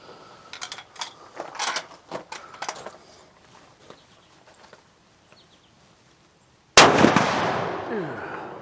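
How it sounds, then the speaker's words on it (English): A large-caliber handgun fires a single sudden, very loud blast near the end, whose ringing echo decays away. It follows quieter clicks and handling sounds. "Oh, I'll shoot it again."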